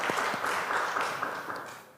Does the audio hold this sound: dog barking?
no